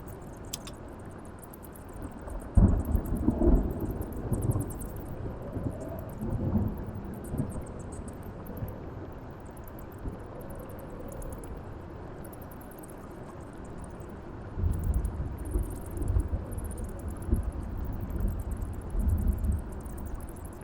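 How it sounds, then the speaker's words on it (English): A thunderstorm in the video game Spellforce 3 rumbles on with steady rain and hiss, and two heavy rolling swells of thunder build and fade, one early and one near the end, with no talk over it. "Great. A storm."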